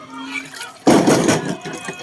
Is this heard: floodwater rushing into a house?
yes